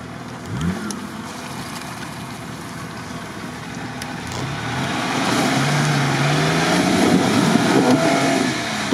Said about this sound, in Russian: Так, едет серьезный джипер.